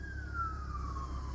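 Emergency vehicle siren on a city street, a faint single tone sliding slowly downward as it passes in the distance over steady low background rumble, with no talking.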